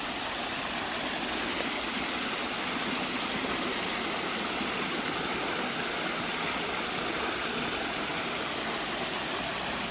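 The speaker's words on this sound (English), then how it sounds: "Who would have thought you would have found a waterfall in Buckinghamshire?" A waterfall in the grounds of Stowe, Buckinghamshire, gives off a steady, dense rushing roar that stays even throughout, with no voices.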